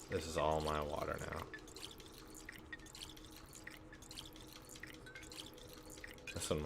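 Water from a pump splashing and dripping into bottles in the video game Pathologic 2, a steady thin trickle with small drips, framed by a voice talking briefly at the start and end.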